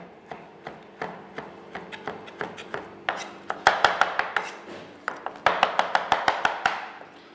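A knife chops parsley steadily on a cutting board, quick sharp taps that speed up and grow louder in bursts, with no talking.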